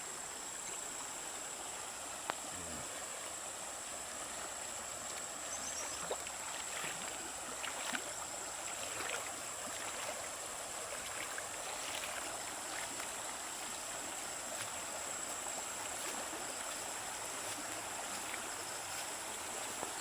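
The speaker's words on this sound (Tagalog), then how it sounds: "Ayan po ang ilog dito." A swollen, murky river running high after rain, heard as a steady broadband rush of flowing water with no voices, even and continuous throughout.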